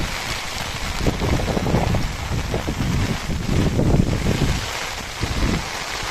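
Strong monsoon wind and rain at the flooded Bhagandeshwara temple in Bhagamandala, Karnataka, with water at the lower steps: a loud, steady roar of wind buffeting the microphone, with gusty surges throughout and no talk.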